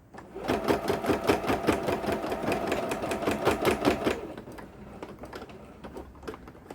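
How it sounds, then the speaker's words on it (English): A sewing machine stitches fabric for a vinyl-front project bag, a steady rapid mechanical chatter running for about four seconds, then slowing into a few separate stitches. "all I'm going to do is I'm just going to start stitching"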